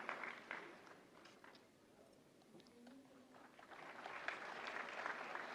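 Applause at a national film awards ceremony greets an award recipient, swelling at the start, dipping mid-way under a faint voice, then building back to sustained clapping from a large audience.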